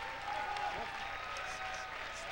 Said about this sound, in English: The crowd's gonna give him a standing ovation